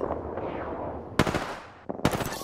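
Rapid machine-gun bursts from a first-person shooter battle in Apex Legends, two sharp volleys cutting in over a steady rumbling game backdrop.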